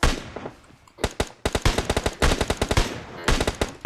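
Rapid automatic gunfire from PUBG Mobile crackles in close, loud bursts, with a quieter stretch at the start and then dense strings of shots back to back.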